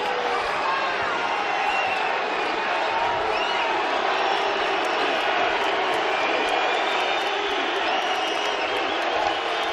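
Dense, steady roar of a basketball arena crowd at a Colorado State vs New Mexico college game, loud cheering against the visiting Colorado State team that holds unbroken and even for the whole stretch, with no single voice standing out.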